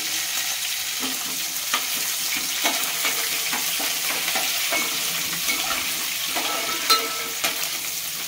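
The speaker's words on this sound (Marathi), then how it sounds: "आता ही फोडणी छान तडतडल्यावरती त्यामध्ये आपण रवा टाकणार आहोत." Mustard seeds and curry leaves splutter and sizzle steadily in hot oil, a dense continuous crackle with small pops scattered throughout and no voices.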